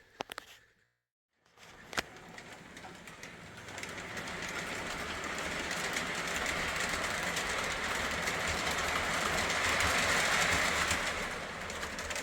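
Lionel MPC-era model train pulling a PRR square-window caboose around a toy track loop, a steady rolling rumble and clatter that builds after a brief silence and holds close and continuous, with no talking.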